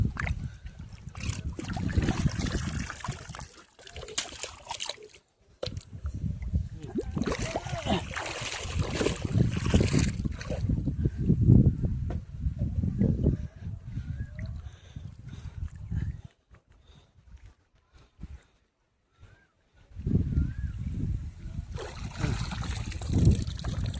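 Water streams and splashes off a fishing net pulled from a village pond, a steady wet rush near at hand with a short quiet gap in the middle; people talk in the background.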